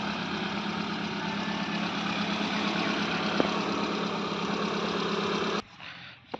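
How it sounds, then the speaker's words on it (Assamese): A second-hand GL model motorcycle engine idles smoothly and steadily at close range with no talking. The idle cuts out abruptly near the end. "ইঞ্জিনৰ চাউণ্ডটো শুনক একদম স্মুথ চাউণ্ড"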